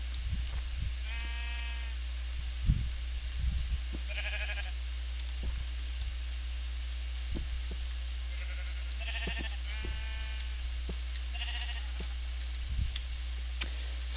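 Sheep in the video game Minecraft bleat repeatedly, several short wavering calls spread apart over a low steady hum, with faint clicks in between.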